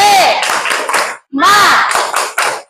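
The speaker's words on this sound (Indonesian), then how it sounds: "Ayo kita tepuk semangat." A class of children chanting and clapping a rhythmic spirit-clap routine, loud and close, with voices shouting in bursts alongside the claps and a short pause partway through.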